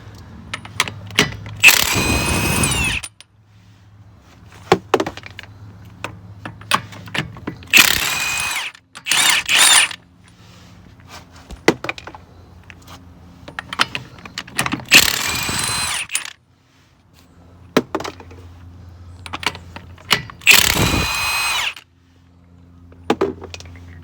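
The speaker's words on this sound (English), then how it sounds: "we're going to go ahead and bust off these lug nuts" Lug nuts, 21 mm, being broken loose on a 2019 Kia Sorento during a brake job, heard as four loud bursts of power-tool or impact-wrench rattling, each a second or so long, separated by quieter clicks and handling noise.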